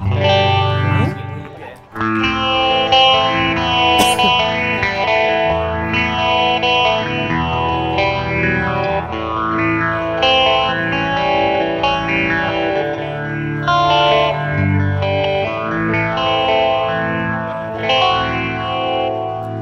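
Clean electric guitar playing chords through a multi-effects unit's modulation and reverb, shimmering and continuous, with a brief pause near the start.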